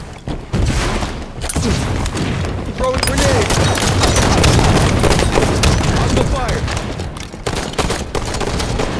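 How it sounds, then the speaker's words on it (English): Grenade blasts and gunfire in Halo 5 arena slayer combat: a string of loud booms and crackling shots over several seconds, dense and overlapping, with a voice calling out amid the chaos. "Throwing grenades!"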